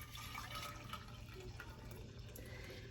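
Hot coffee poured into a thick glass pickle jar, a steady close liquid stream and trickle lasting throughout, faint and continuous under a low background hum.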